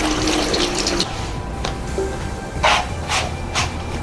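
Vegetables being rinsed under a running kitchen tap for vegan soup, a steady splashing hiss of water with a few brief louder gushes and splatters as the produce is turned beneath the stream.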